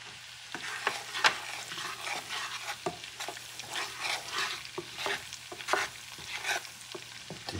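A small amount of onion frying in a pan for garlic shrimp, with steady close sizzling broken by scraping strokes of a utensil stirring through the pan.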